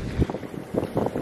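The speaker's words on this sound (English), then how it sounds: "So there's the first good gust." Strong gusts of wind at sea off Arrecife on a sailing boat buffet loudly, in uneven rushing bursts that hit the microphone hard.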